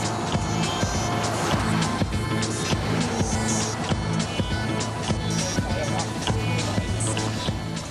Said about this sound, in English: In its first laps around the track, the Aston Martin surprises with a speed of 309, exceeding factory specs by 9 kilometres.